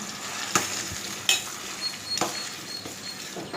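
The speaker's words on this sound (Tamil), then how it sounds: "அதை அப்படியே வதக்கி விட்டு வதக்கி விட்டுட்டே இருக்கணும்." Food being sautéed in a tempering in a pan, with a steady low sizzle and occasional sharp scrapes and clinks of a spoon stirring against the pan, close and alone without talk.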